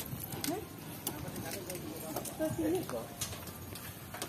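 A cow being led to market, its hooves clopping in an irregular walking rhythm on hard ground nearby, while people talk over and around the steps.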